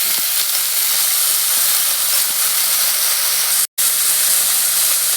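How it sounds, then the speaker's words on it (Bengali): Boiled mustard greens hit a pan of frying garlic, onion and black cumin, setting off a loud, steady hiss and sizzle that continues with only a brief break. "এবার আমি সেদ্ধ করা শাকটা দিয়ে দিচ্ছি।"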